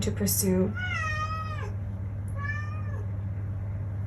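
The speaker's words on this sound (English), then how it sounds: "And that's my cat." A house cat gives two drawn-out meows, the first longer and rising, the second softer, heard close indoors just after a brief spoken phrase, over a steady low hum.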